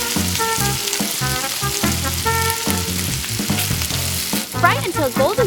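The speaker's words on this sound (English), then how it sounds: "When the oil heats up, drop the meat into the pan." Meat dropped into hot oil in a miniature pan frying loudly and steadily up close, the hiss running throughout beneath a prominent melodic music track.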